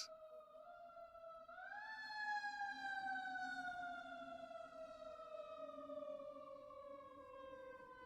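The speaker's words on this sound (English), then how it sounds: "But if you hear that emergency response vehicle" A fire truck siren wails at moderate distance, its pitch sweeping up then slowly falling as it passes, with no voices.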